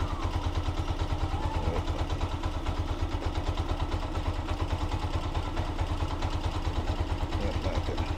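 A Honda TMX 125 Alpha motorcycle engine runs close by with a steady, loud, fast-pulsing putter that holds an even pitch throughout, with no talk over it.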